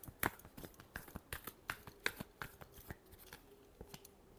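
A deck of tarot cards being shuffled by hand, a run of quick, crisp riffling snaps and flicks close up, fading toward the end, with no talking.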